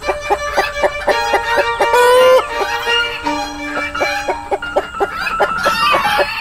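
Several chickens at a petting zoo clucking and squawking in rapid overlapping bursts, with a rooster-like crow partway through, fairly close and busy.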